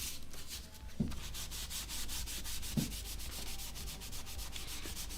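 Leather pieces for armor are buffed with a continuous, rapid rubbing that sounds steady and close, with a couple of soft knocks along the way and no talking.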